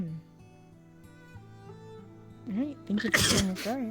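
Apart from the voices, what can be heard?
sneeze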